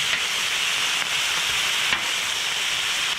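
Peppers and onions sizzle steadily on a hot Blackstone griddle, a dense continuous hiss with a couple of faint scraping stirs, close and alone with no talking.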